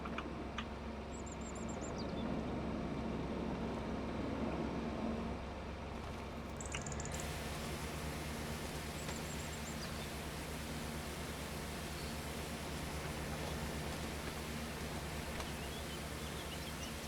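A pressure washer sprays a John Deere tractor and baler in Farming Simulator 25, a steady, even hiss of water that runs unbroken throughout at low volume.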